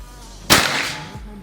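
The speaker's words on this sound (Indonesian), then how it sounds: "Oke, tembakan yang kelima." An Escobar PCP air rifle fires one slug pellet: a single sharp, loud crack over quiet room tone, followed by a short fading tail and a faint thump.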